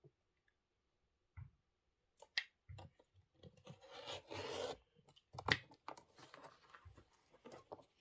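A brush sweeps across an embroidered fabric broom block, light scratchy rasping strokes in irregular bursts with small ticks between them, close and faint.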